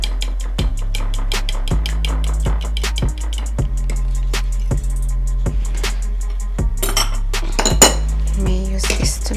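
Waffle batter of warm milk and wet ingredients is whisked in a bowl, producing quick repeated clinks and taps of utensil against the bowl in an uneven rhythm, close and clear.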